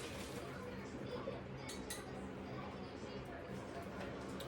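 Boiled hot dogs are strained in a metal strainer in a home kitchen, producing soft metallic clinks and clattering at low volume over a continuous hiss of draining water, with faint background chatter.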